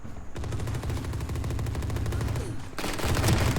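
Rapid automatic gunfire in the video game Valorant rattles in a steady, fast stream of shots, loud and close, then shifts to a brighter, noisier burst near the end.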